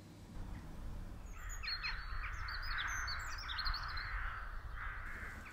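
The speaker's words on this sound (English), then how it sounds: "with the crows making a rumpus in the trees outside" Several crows caw harshly from trees outside a village church, from a distance, over a low, constant background rumble.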